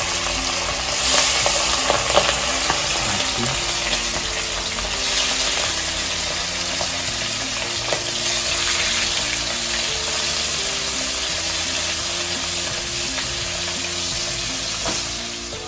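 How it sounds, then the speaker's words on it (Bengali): Pieces of hilsa fish fry in hot oil for a Bengali fish curry, a loud, steady, close sizzle with crackling pops and occasional stirring, no talking. "আমরা দেখতে পাচ্ছি হালকা হালকা করে ভাজবো এগুলো"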